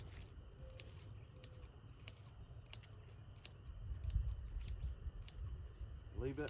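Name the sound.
garden shears cutting tops off clover plants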